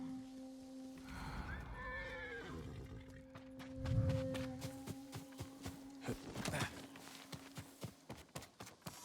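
A horse neighs in the video game Ghost of Tsushima, a clear whinny near the start, followed by a run of hoof clip-clops and footsteps that grow sharper and more spaced toward the end.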